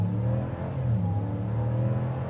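A 2022 Jeep Wagoneer Series II with a 5.7-liter V8 and 8-speed ZF transmission accelerates hard on the road, a steady, fairly loud low engine drone heard from inside the cabin.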